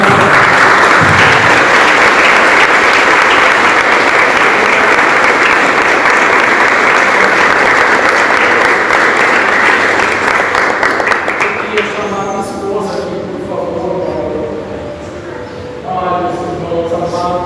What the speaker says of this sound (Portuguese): Que você aplaudisse ao Senhor, porque Ele é bom.